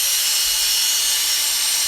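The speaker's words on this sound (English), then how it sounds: "You even put my Q-tip drill in here?" A small handheld Q-tip drill runs steadily in a bathroom setting, giving a constant high-pitched electric whine and hiss that stays even and close for the whole moment, with no talking over it.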